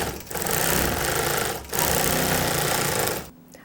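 A longarm quilting machine running in constant stitch mode gives a loud, steady mechanical buzz in two long bursts with a brief pause between, then stops abruptly.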